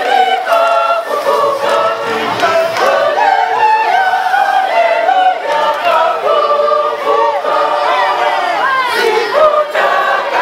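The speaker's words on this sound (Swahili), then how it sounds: "Piga makofi kwao." A large crowd at a priestly ordination celebration cheers, ululates and shouts continuously, a dense, loud mass of voices with clapping mixed in that holds for the whole stretch.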